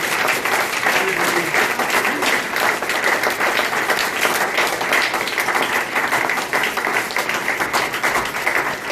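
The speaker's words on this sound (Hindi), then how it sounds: "वो सच में धन्यवाद की तालियां इस समय परमेश्वर के सामने" Sustained applause from a church congregation giving thanks during a worship service, dense steady clapping filling the whole stretch at close range with little variation in loudness, with no clear speech on top.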